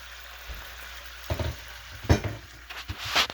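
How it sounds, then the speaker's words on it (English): Small pieces of chicken sizzle and fry in a skillet, a steady hiss broken by several louder clatters and scrapes as the pieces are stirred, close and loud. "you can hear it sizzling."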